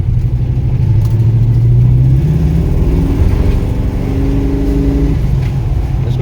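A small Chevrolet Vortec engine revs up and down close by, its pitch climbing and falling through a few loud, throaty pulls with no talking over it.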